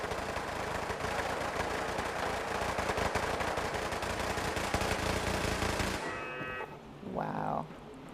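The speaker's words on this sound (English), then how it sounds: "Shooting up the neighborhood yet again." Dense, continuous rapid gunfire in Fallout 4, heard at a moderate distance for several seconds before cutting off abruptly, followed by a short lowing, moo-like call.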